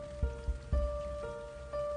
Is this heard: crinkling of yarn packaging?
no